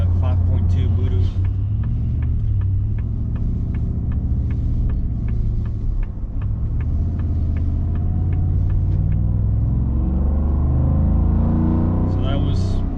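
2025 Ford F-150 engine held at around 3,500 RPM, a steady loud rumble with a faint rhythmic ticking above it, continuous and close throughout.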